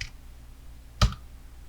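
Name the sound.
mouse clicks in Premiere editing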